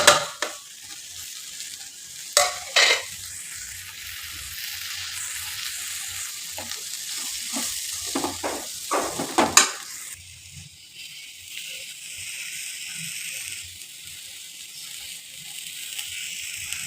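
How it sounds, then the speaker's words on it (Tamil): Onion, tomato and homemade mutton masala sautéing in a pan, a steady soft sizzle broken by scattered scraping and stirring clicks, louder bursts near the middle, with no voices. "மசாலாஸ் எல்லாமே நல்லா வதங்கிடுச்சு"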